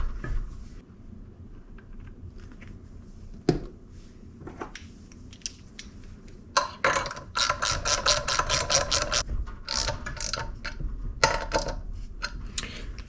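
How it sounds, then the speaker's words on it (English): A ratchet works sprocket bolts on a CRF150R supermoto, backing them out and running them down. After scattered knocks comes a rapid, close train of sharp ratcheting clicks, repeating in quick spurts. "So I'm going to back these out, throw some red Loctite on them, and then run them down, torque them"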